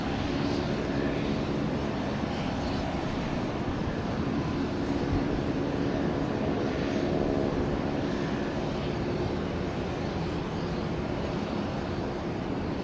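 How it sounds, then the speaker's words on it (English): Embraer regional jet at Tampa International Airport, a dense continuous roar of engine noise that holds steady and loud throughout, with no talk over it. "It's the Embraer, they're smaller aircraft."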